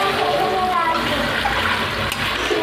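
Water is poured into a sauce bowl to rinse it while cooking soybean chilli, giving a steady, fairly loud splashing rush that runs throughout.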